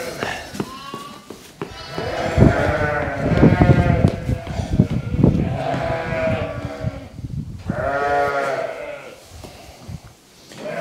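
Sheep and lambs at lambing time bleat loudly and repeatedly close by, overlapping cries in a noisy pen with shuffling movement between calls.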